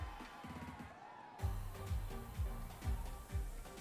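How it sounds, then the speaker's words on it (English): Crowd cheering from the audience during a gym battle in the video game Pokemon Violet, rising in waves of rhythmic pulses that swell and grow louder over a steady backing beat. "The audience cheering got a little louder."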